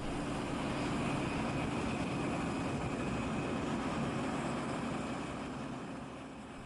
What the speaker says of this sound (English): What you see here is the beautiful Boeing 737-200 quick change version of Nolinor Aviation